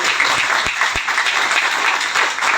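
Audience applause breaks out at a direct selling company's compensation plan presentation in India, a dense, steady wash of many clapping hands that holds at full strength throughout.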